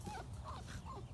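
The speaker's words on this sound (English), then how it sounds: "I wanted a video of you guys playing together, not crying." Young puppies whimper and cry softly, with several thin, wavering high whines overlapping in a faint, continuous stretch.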